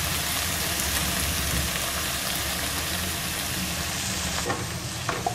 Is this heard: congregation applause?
no